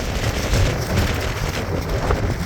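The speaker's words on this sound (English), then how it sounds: "Ooh, it's windy though." Steady gusty wind buffeting the microphone, a loud low rumble with surging gusts and no voices.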